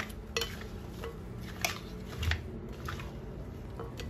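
A spoon stirring a chocolate mixture in a bowl, soft close scrapes and light clinks against the bowl, quiet and irregular, with no talk.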